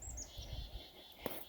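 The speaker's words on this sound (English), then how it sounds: "just listen to the birds" Small birds chirp in a spring vegetable garden, giving a few faint, high, quick tweets over a quiet outdoor background.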